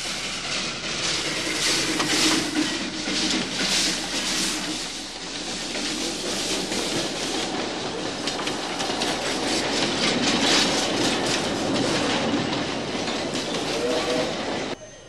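An Ecuadorian railway train rolls along steadily, wheels clattering rhythmically on the rails with occasional squeals, a continuous mid-level rumble with no voices.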